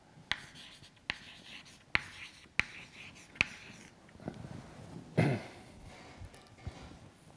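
Chalk or marker writing an equation on a lecture-hall board, heard as a series of sharp taps and short scraping strokes spaced about a second apart, fairly close and clear with no talking over them.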